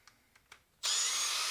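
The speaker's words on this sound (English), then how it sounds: "why am I doing this with hand tools when I got a drill" A power drill starts up after a few soft knocks and runs loud and steady at close range, with no voices.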